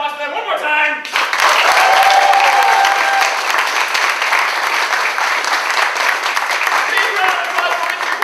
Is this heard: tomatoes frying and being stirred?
no